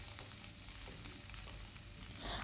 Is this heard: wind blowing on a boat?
no